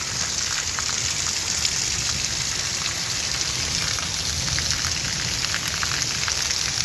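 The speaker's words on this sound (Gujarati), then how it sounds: "9 વાગ્યામાંથી તો વરસાદ ગાજવીજ સાથે બહુ જ નો વરસી રહ્યો છે" Heavy monsoon rain pours down steadily, making a dense, even hiss of drops hitting surfaces with no letup, though no distinct thunderclap stands out.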